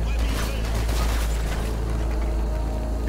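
Gunfire and booming blasts in the shooter Hatred, a loud, dense mix of rapid shots over a deep rumbling low end, with a voice talking underneath.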